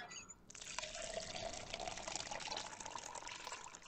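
Water gushes from a faucet in a hidden-object puzzle game, starting abruptly after a brief soft moment and pouring steadily in a bright, splashy stream, fairly quiet and alone.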